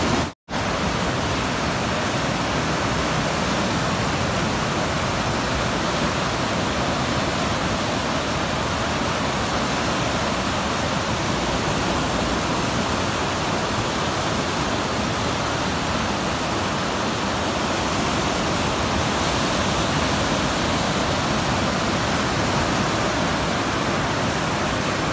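Cold stream water at Parshuram Kund in Arunachal Pradesh rushes in a steady, dense roar, loud and close and unbroken throughout, with no talk over it.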